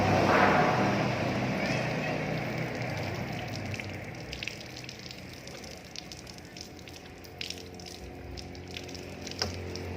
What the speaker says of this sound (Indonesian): setelah selesai, kita bilas pakai air mengalir